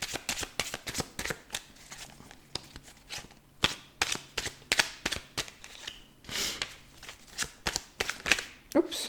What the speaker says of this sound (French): Oups, une carte qui s'est retournée, on va prendre celle-là.